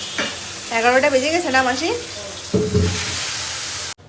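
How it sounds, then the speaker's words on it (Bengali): Large pieces of fish frying in hot oil at home give a loud, continuous hiss and sizzle while someone talks over it; a fresh burst of spitting comes midway before the sound cuts off abruptly. "বড় মাছগুলো ছাড়ি।"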